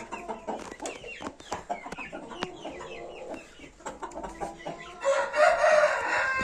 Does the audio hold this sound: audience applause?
no